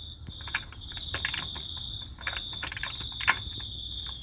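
A ratchet works on an Alfa Romeo 147 GTA's oil filter: bursts of rapid clicking pawl ticks repeat in short runs, close and crisp, over a steady high-pitched whine in the background.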